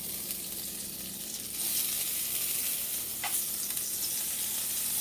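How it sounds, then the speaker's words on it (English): Butter sizzles and crackles steadily in a hot frying pan on the stove, a loud continuous frying hiss that swells slightly partway through, with a faint clink in the middle. "I'm going to go ahead and put some of my butter in here in the middle"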